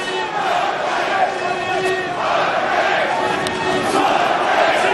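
Rugby crowd at a Harlequins versus London Irish European Challenge Cup match roaring after a big tackle, a loud, dense wash of cheering and shouts that holds steady throughout.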